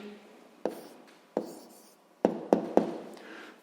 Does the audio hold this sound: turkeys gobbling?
no